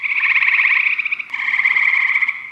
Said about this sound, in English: the eastern gray tree frogs